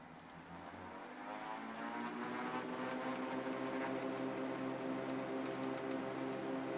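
The twin engines of a Cessna 310 wind up to takeoff power, a droning buzz that swells from quieter to a loud, steady roar with pulsing propeller harmonics, heard from inside the cabin.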